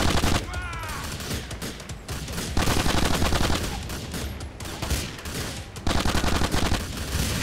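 Heavy gunfire in the video game GTA: The Ballad of Gay Tony, loud sustained volleys of automatic shots with short gaps, close and intense throughout.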